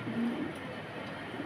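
A pigeon at a wholesale pigeon farm gives a soft, low coo early on, brief and fairly faint over a steady background hiss, with no one speaking.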